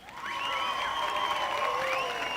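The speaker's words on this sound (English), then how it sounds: "Oh wait, do I have applause?" A dense wash of crowd applause from a sound effect, steady and fairly loud throughout, with bright whistle-like tones sweeping over it.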